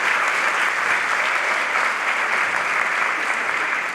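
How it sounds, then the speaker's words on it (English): Sustained applause from an audience at a ribbon cutting and grand opening ceremony for a performing arts center, a dense, even roar of clapping that continues without a break. "another opportunity for a round of applause"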